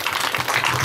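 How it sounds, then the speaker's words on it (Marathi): Audience at a kirtan claps for the musician in a short, dense burst of applause, with low tones and a faint voice mixed underneath. "त्यांच्याकरता एकदा टाळी वाजवू आपण"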